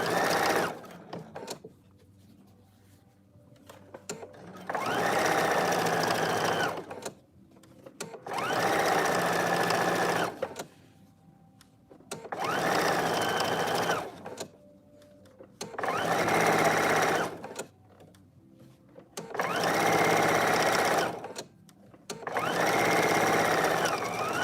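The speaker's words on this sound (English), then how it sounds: "now we have finished sewing the lining to one of the sleeves" A sewing machine stitches dress lining to a sleeve in six loud, steady bursts of rapid whirring, each lasting a few seconds and separated by quiet pauses with faint handling sounds.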